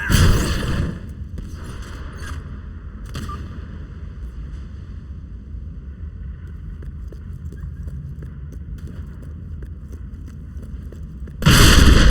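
Sorcery explosions burst in the Fable 3 video game, with a loud blast at the start and another at the end, and crackling, rumbling battle noise between them.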